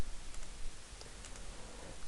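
Faint, quick plastic clicks of keys being pressed on a TI graphing calculator, a few light taps spread across a quiet moment with no talking.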